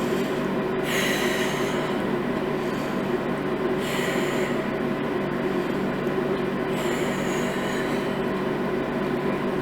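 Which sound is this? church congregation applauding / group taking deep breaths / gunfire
group taking deep breaths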